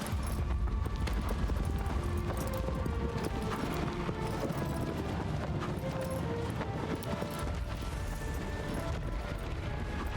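Steady horse hooves clip-clop at a trot in the video game Shadow of the Colossus (2018), over constant busy background noise, continuing without pause throughout.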